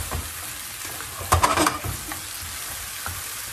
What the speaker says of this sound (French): Maintenant, je vais rajouter le beurre de cacahuète que je vais tâcher de bien bien faire incorporer à l'intérieur de ma préparation